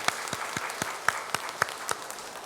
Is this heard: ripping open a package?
no